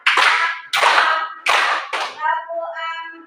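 Three loud, sharp hand claps in a classroom clapping game, evenly spaced, followed by a short spoken voice.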